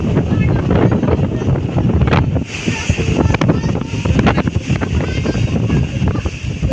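A violent evening cyclone in Dhaka roars as a constant, loud, buffeting gale tearing at trees, pounding the microphone with turbulent rumble while voices are faintly heard beneath.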